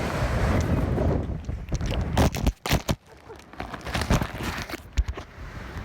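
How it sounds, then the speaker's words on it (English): Strong wind gusts buffet a microphone outdoors beside a KTM 690 Enduro R motorcycle, producing loud, irregular rumbling blasts and sharp thumping peaks that rise and fall unevenly throughout. "Yeah, that's how windy it is right now. It's windy as hell."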